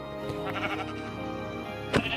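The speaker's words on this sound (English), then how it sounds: "Kill the sheep." Sheep bleat in Minecraft, a wavering nasal call sounding close and loud over a constant game background, with a short sharp hit near the end.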